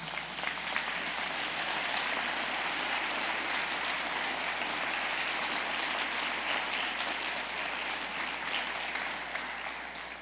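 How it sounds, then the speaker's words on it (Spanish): Steady applause from a church congregation during a sermon, even and sustained throughout, moderately distant, with no talking over it. "¿Alguien le puede dar un aplauso a Dios?"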